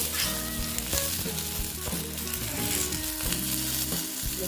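A dense, steady sizzle of eggplant pieces frying in a pan carries on throughout, heard close, with occasional scrapes and taps of a spatula turning them.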